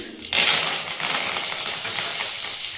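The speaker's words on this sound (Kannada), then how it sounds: "ಈಗ 1 ಸ್ಪೂನ್ ಸಾಸಿವೆ ಹಾಕ್ಕೋಬೇಕು. ಆಮೇಲೆ ಚಿಕ್ಕದಾಗಿ ಕಟ್ ಮಾಡ್ಕೊಂಡಿರೋ 1 ರೆಡ್ ಚಿಲ್ಲಿ, ಆಮೇಲೆ ಕರಿ ಲೀವ್ಸ್" Mustard seeds, chopped red chili and curry leaves hit hot oil in a pan for a village-style greens curry, bursting into a loud, steady crackling sizzle with sharp popping that continues throughout.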